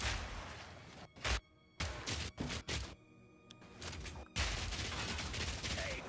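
Grenades explode in Path of Exile 2 as a loud string of sharp, punchy blasts in quick bursts, separated by brief gaps of near silence before a denser run of impacts.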